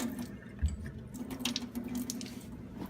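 Water runs and splashes in uneven bursts as it is poured onto a fiberglass lower-leg splint to speed curing, close and moderately quiet with no speech.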